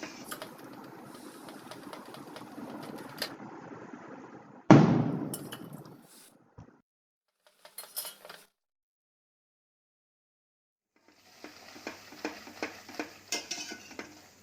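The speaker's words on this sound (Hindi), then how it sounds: "ऐसे एक एक कड़छी डाल के इसको मिक्स करते जाएंगे। लगातार इसको चलाना है।" Mysore Pak mixture is stirred while ghee and oil are ladled in, with scattered ladle clinks and scrapes against the pan, one loud pour or splash midway, then quiet gaps and renewed faint stirring taps.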